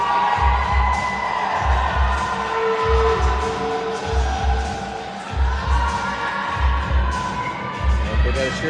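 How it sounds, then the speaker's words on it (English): A cheering section at a 15U youth ice hockey game in an arena, chanting loudly in a rhythmic pattern with regular drum-like beats, a crowd roar underneath and a commentator talking over it. "They got a cheering section trying to get some energy into them here."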